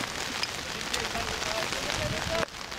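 Rain falls and drips steadily at an amateur football friendly between Dresdner SC and Preußen Bad Langensalza, a constant close patter with people talking underneath.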